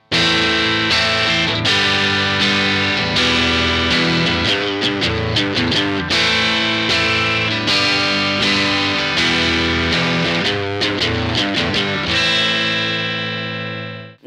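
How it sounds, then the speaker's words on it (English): A distorted electric guitar runs through the DSP effects of a Steinberg UR-RT audio interface with Rupert Neve transformers, playing loud, gritty chords and rapid strummed bursts in a steady rhythmic pattern, ending with a ringing chord and no voices. "Now let's add some distortion."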